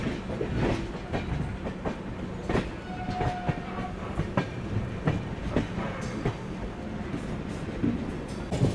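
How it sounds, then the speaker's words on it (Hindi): Garib Rath Express passenger train running through Hapur Junction railway station in India, a steady clickety-clack of wheels over rail joints and rattling coaches, fairly close and continuous throughout, with no talk. "यहाँ हमारी गरीब रथ एक्सप्रेस निकल चुकी है हापुड़ जंक्शन रेलवे स्टेशन पे।"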